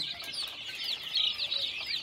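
A crowd of chickens and chicks clucking and peeping without pause, close by and fairly loud, with no voices.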